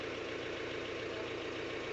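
A vehicle engine idles with a steady low rumble and fine rhythmic pulsing while it slowly reverses with a boat in tow, constant in level for the whole stretch, no voices.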